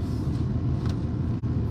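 A pickup truck driving slowly and pulling in to park, a steady low engine rumble with a brief dip and a louder thump at the end, no talk.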